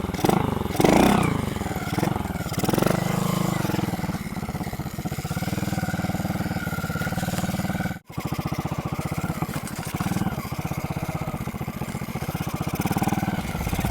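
A BMX bicycle fitted with a motorcycle engine runs close by, with a sharp rev at the start settling into a steady, buzzing mid-pitched drone, briefly cut off around the middle before resuming.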